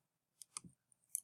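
A handful of sharp, quiet mouse clicks land close together, one doubled tap followed by a lone click and a final crisp pair, with silence around them.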